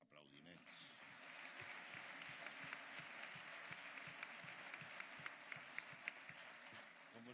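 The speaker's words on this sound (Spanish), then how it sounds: "Aplaudiments." Sustained applause from a congress audience filling a hall at a union gathering, dense even clapping throughout with a few sharper claps standing out, heard from a distance.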